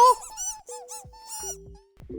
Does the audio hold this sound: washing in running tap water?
no